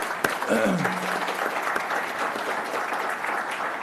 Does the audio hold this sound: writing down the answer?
no